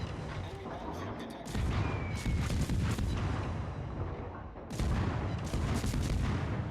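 Rapid naval gunfire from a Mahan destroyer in World of Warships, loud booming salvos rolling almost continuously, easing briefly before a second dense barrage.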